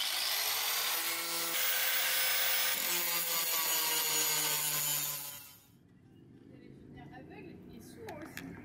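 A flap disc grinder smooths a weld bead on a Honda Prelude VTi under restoration, giving a loud, continuous abrasive whine for about five seconds before cutting off, followed by quieter background sounds.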